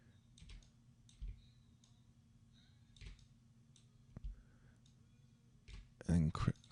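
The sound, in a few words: computer mouse clicking while designing a surgical guide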